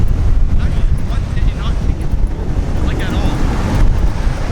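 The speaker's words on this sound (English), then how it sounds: "Let's see how windy it is." Strong wind buffets the microphone outdoors, a loud, continuous low roar and rumble with gusty fluctuations throughout.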